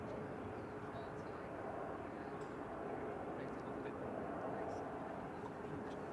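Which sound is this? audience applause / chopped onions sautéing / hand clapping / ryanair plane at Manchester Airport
ryanair plane at Manchester Airport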